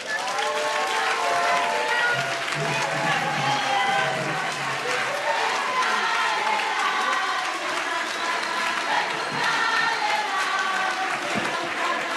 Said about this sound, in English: Massive applause there at the National Gender Summit taking place in Centurion, just outside Pretoria.